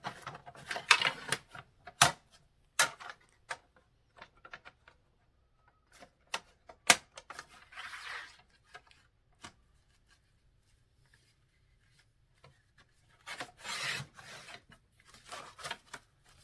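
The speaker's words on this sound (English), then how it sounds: "because I only need half of the cardstock, I'm going to go ahead and cut it on the crease." Scissors cut a sheet of cardstock along its crease while making sympathy cards. Quiet, scattered snips and paper rustles come in short bursts, close by, with silence between them.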